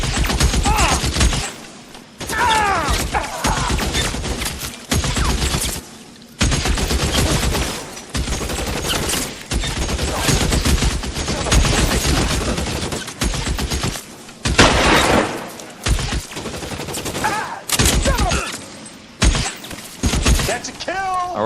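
Heavy gunfire rattles through a shootout in the video game LA Noire, dense bursts and volleys of shots repeating nearly nonstop with brief gaps, loud and close, mixed with shouted voices.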